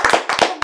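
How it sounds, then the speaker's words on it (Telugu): A few sharp hand claps from a small group at an interview, three quick bursts close by with brief gaps between them, no talking over them. "క్లాప్స్ కొట్టండి రా"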